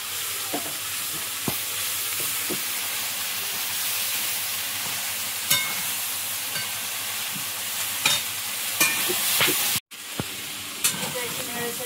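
Catla fish frying in hot oil in a home kitchen gives a steady, fairly loud sizzle and hiss throughout, with scattered pops and spatters and a brief dropout near the end.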